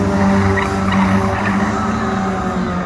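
Van banger racing on an oval at Lochgelly Raceway: a loud, continuous engine revs hard while tyres skid and squeal across the track, with no talking over it.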